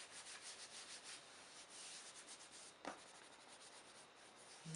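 A paper collage piece being rubbed down onto a journal page with the hand, a continuous soft scratchy friction with gentle rhythmic strokes, close and quiet, no talk.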